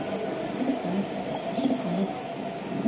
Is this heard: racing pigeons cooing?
yes